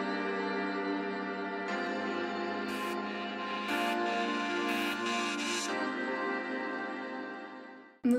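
A beat intro plays a sustained, reverb-washed Arturia Piano V2 preset, with dense held chords and a few bright accents layered in, steady and moderately quiet throughout before ending abruptly.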